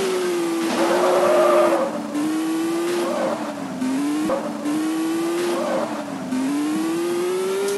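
Car engine in a realistic car physics video game, loud and close, revving up and down in repeated waves with gear-change dips and a faint squeal, no talk over it.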